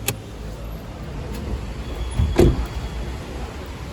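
Someone opens the bonnet of a Toyota Auris 1.33 Dual VVT-i over a low, steady background rumble; a single dull metallic thunk and rattle sounds near the middle, close by.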